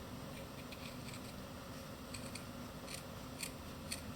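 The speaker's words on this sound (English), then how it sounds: "I'm just going to cut the green layer off," Scissors snip through a green fabric layer in a kids' sewing project, a quiet run of small crisp cuts repeating at an uneven pace against a faint steady background hiss.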